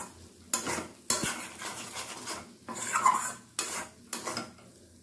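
Masala with capsicum being stirred and sautéed on a low flame in a pan, with repeated scraping of a metal utensil against the pan in bursts and a faint sizzle underneath, no talking.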